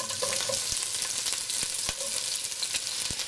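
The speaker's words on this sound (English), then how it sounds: "So we're basically infusing the oil with the aromatics." Lemongrass, lime leaves and purple onion sizzle steadily in hot oil, a dense frying hiss with a few sharp utensil clicks and scrapes as the aromatics are stirred, close and continuous with no talking.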